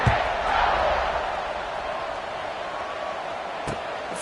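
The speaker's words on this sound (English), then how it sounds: "this crowd is buzzing after that last score" A football stadium crowd at an LSU versus Ole Miss game buzzes after a score, a dense, loud and steady roar of many voices that fills the space, with one sharp thud near the end.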